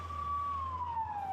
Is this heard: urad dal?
no